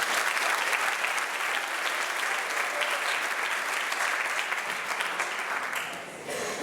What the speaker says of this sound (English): Will you please join me in giving Kim Pena a round of applause?